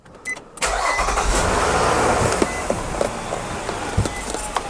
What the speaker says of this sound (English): All right, so we got the engine running.